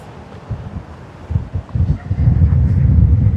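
Gusty wind buffets the microphone beside the Telamón shipwreck on Lanzarote, building from a light rumble to a loud, sustained roar by the end.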